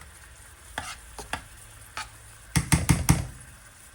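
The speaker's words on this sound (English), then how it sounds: "Give this a nice stir, and this is going to add to the creaminess and make us some cheesy grits." Cheese and butter being stirred into a pot of grits for shrimp and grits, heard as a few soft scrapes early on, then a louder burst of quick spoon strokes near the end, with no talking.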